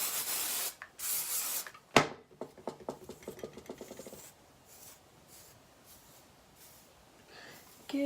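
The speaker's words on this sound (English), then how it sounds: "hairspray." Hairspray sprayed onto hair pulled back into a tight ponytail, heard as a few short hissing bursts close to the microphone, followed by quieter rustling and handling sounds.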